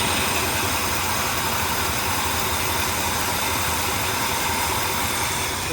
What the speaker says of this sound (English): listen to it. That's pretty smooth for just 4 cylinders running